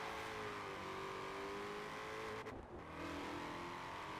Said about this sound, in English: I recognize that sound from somewhere. I think it's the Shelby GT350R.